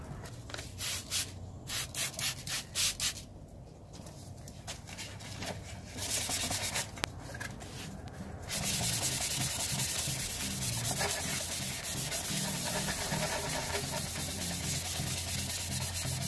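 Wet sanding of a burnt, oxidized car headlight lens by hand with 1000-grit sandpaper and soapy water, a steady rhythmic rubbing and scraping that starts in short strokes and turns into continuous close scrubbing.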